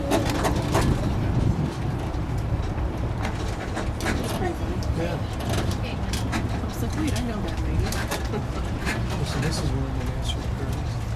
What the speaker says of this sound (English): I'm sure you can listen out for all the birds in the area right now.